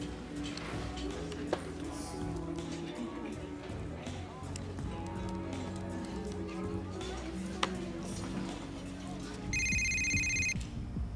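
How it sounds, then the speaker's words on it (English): A telephone ringing in a house during a television drama, repeated electronic rings running steadily under people talking and room noise, growing a little louder near the end. "I can hear your phone."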